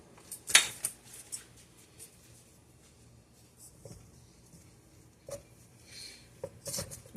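A small spoon scrapes and taps against a measuring cup while ingredients for Snickers-style candy bar cups are added, making sparse, faint clicks and scrapes spread across a quiet stretch.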